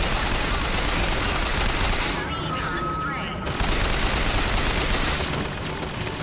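Gunfire in BioShock Infinite, a dense, continuous crackle of shots running through the whole stretch with a brief lull midway, loud and close amid other game noise.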